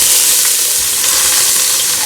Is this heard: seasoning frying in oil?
yes